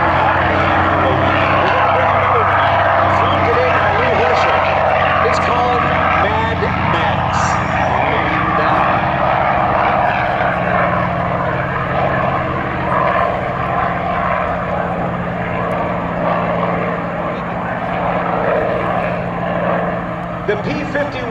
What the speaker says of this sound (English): as we see now, a couple of B-51s taking off and returning out in the afternoon